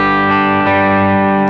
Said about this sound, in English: That's the kind of sound that I really like when it comes to like overdriven tones.